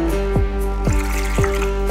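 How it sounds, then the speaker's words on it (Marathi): Dal lentils are rubbed and washed in water, giving soft sloshing and a few gentle splashes in a quiet kitchen with no talk. "2-3 पाण्यात छान अशी चोळून डाळ आपण धुवून घ्यायची आहे"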